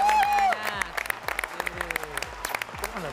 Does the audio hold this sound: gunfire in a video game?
no